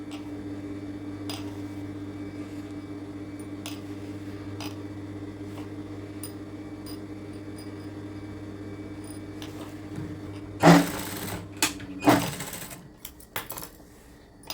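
Sewing machine stitching frill sleeves for a blouse runs in a steady close hum with rapid needle clatter, then stops, leaving a few sharp handling clicks and knocks near the end.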